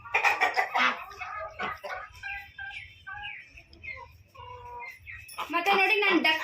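Native country chickens in a farm cage: soft clucking and bird calls are heard here and there under a person talking close by.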